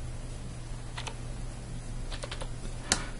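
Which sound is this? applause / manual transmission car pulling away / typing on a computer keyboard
typing on a computer keyboard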